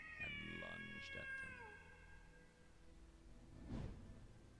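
A monstrous cat lets out a loud, drawn-out shriek and meow with a falling, wailing pitch, followed by a second rough, noisy yowl a few seconds later, close and prominent over a low background rumble.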